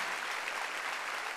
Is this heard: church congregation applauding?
yes